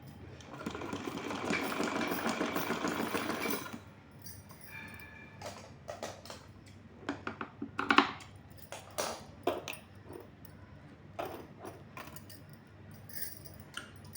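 A sewing machine stitches along the fabric edge of a small doll outfit in one steady whirring run of about four seconds, then falls silent while scattered clicks and handling noises follow nearby.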